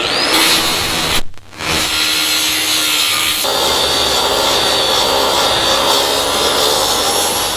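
An angle grinder works welded steel end caps on a homemade Thor's hammer, a loud continuous harsh grinding whine that cuts out briefly, then resumes with steady abrasive rasp.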